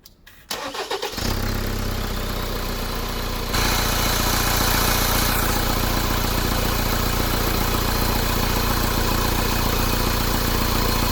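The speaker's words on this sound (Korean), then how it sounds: "시동을 걸어 보겠습니다." A diesel car engine cranks briefly, catches and settles into a loud, steady idle close by; the car has a damaged DPF and oil is leaking from the turbo outlet.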